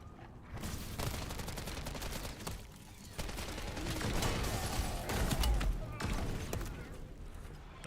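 Dense enemy gunfire in MW3 Zombies, a Modern Warfare III co-op mode set in the Dark Aether, with rapid automatic bursts and single shots crackling almost without pause for the whole stretch, loud and close under a busy game mix.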